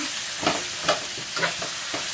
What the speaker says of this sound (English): Now this is just to get a nice sear going.